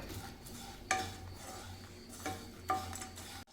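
Prawn pickle masala being stirred in a pan on a stove, with a few distinct scraping clinks of the spoon against the pan over a low, steady background hum.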